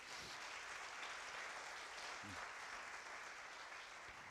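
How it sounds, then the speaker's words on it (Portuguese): A church congregation at a prophetic service gives steady, sustained applause, heard faint and distant, with only a brief murmur of voices under the clapping. "Dá uma salva de palmas a Ele então"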